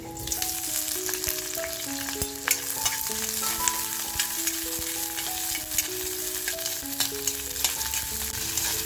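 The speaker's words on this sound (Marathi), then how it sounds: "बघा, कढईमध्ये थोडंसं तेल टाकते. बघा, तेल छान तापले, कांदा टाकते." Onion fries in hot oil in a kadhai, a steady loud sizzle with occasional stirring, while background music plays under it.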